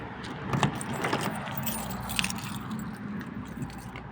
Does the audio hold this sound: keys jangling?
yes